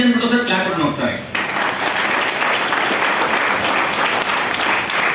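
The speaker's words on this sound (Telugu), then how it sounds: "ఎంతమంది ఈజీ అనుకుంటే క్లాప్ కొట్టండి ఒకసారి" An audience at a Vestige business training session in Hyderabad claps together on request, dense sustained applause filling the room after a moment of talk at the start, loud and close.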